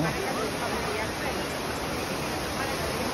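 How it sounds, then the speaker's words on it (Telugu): Loud, steady rush of splashing water from the Trevi Fountain in Rome, Italy, continuous and close, with faint crowd murmur blended beneath. "ఇది త్రిబియా వాటర్ ఫాల్ దీని పేరు"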